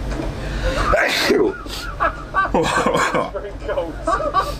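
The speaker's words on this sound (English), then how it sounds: "I've been wanting to sneeze for like the last hour" A single abrupt sneeze rings out close by amid busy background chatter and movement.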